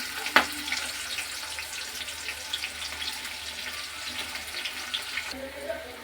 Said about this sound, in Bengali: কুচো পেঁয়াজটা দিয়ে দিলাম।